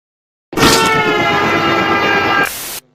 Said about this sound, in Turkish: Trenleri severim.